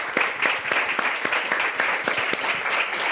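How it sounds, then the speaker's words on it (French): A studio audience claps steadily to welcome a guest onto a French talk show, with dense, continuous applause at an even level and no voices rising above it. "Voilà, moi j'applaudis aussi."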